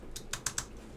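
Typing on a clicky Alps SKCM White switch keyboard in a Geon Works Frog TKL case, four or five crisp, sharp clicks in quick irregular succession, close and distinct with no voices.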